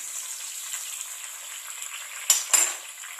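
Small pieces of curry leaves fry in oil for barnyard millet pongal, giving a soft, steady sizzle that flares into two sharp, louder bursts near the end.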